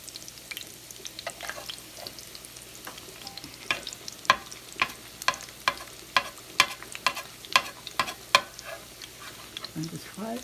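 Cornbread frying in a pan, a low steady sizzle with sharp regular taps, likely a utensil against the pan, that grow more frequent and louder toward the middle and end.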